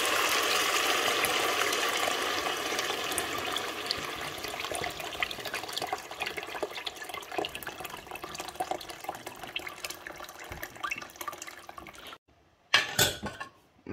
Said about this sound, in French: Là, je vais mettre 1 litre d'eau.